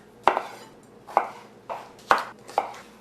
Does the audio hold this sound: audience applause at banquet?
no